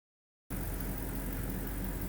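A BMW N62 V8 engine idles steadily after a valve stem seal replacement, a continuous close mechanical hum and rumble that starts abruptly after a brief silence and holds an even level.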